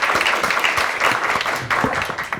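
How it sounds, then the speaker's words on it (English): An audience claps steadily and fairly loudly at a public talk about Turkey, a brief burst of applause with no speech over it. "Welcome and applause."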